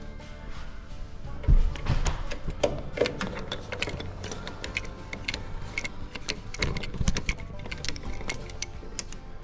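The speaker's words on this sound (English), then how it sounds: "Let's start taking those screws out." A screwdriver backs small Phillips screws out of the AC/DC converter power supply of a PS21 pellet stove. The result is a steady run of close, light metallic ticks and scrapes, with occasional louder clunks and no talking.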